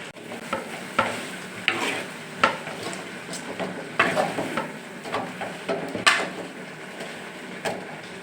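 Chicken gravy simmering and sizzling in a pan with chopped coriander and mint just added, a steady bubbling hiss broken by repeated sharp scrapes and knocks of a spoon against the pan.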